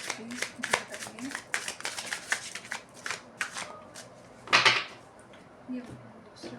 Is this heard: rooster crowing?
no